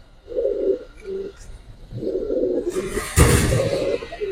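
Giribaz pigeons, including an old-breed ghee-necked male, cooing in soft repeated low bursts close by, with a brief flutter or rustle midway.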